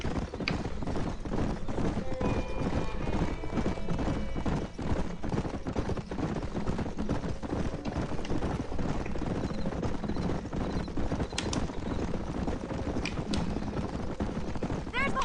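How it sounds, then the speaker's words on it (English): In the Western video game Red Dead Redemption, horses gallop in a fast, continuous clip-clop of hooves with occasional neighs, under ongoing dialogue and game sounds. "There's the horses!"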